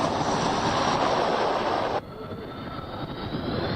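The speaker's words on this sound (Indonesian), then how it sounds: "Uji terbang dilakukan pada helikopter militer, pesawat kargo, dan pesawat tempur generasi ketiga." Chinese military aircraft on a test flight from a highway, including military helicopters, cargo planes and third-generation fighters, giving a loud steady roar that drops abruptly to a quieter engine rumble halfway through, with no talk.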